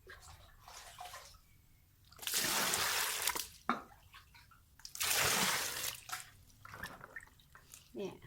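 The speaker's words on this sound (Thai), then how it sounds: "หัวขาวๆ สวยๆ น่ากิน ล้างให้สะอาด" Freshly dug galangal roots are washed by hand in water, two loud bursts of splashing and running water between quieter drips and trickles, while someone talks nearby.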